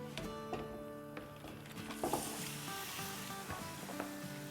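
Six pounds of washed mutton going into hot oil in a non-stick karahi for karahi gosht, giving a steady broad sizzle throughout with a few clattering pops, and music-like tonal bands running underneath.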